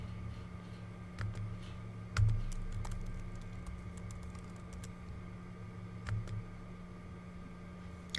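Scattered keystrokes tap on a computer keyboard as a username and password are typed, the clicks sparse and fairly close over a steady electrical hum, with a couple of heavier thumps.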